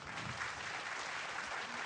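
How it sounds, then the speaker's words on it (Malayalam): A studio audience at a children's singing competition show claps after a young girl's song: dense, steady applause that runs unbroken and evenly loud for a couple of seconds. "നന്നായിട്ട് തന്നെ പഴയൊരു കൈയടി കൊടുത്തേ"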